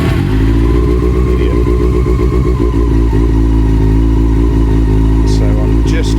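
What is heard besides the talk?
Honda CB400 Super Four motorcycle engine revving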